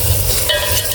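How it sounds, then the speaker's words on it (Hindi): Potatoes fry in hot oil in a pan while being stirred, a close, steady sizzle with soft scraping of the spoon, loud and continuous for a brief moment. "अच्छे से भूनना है आलू"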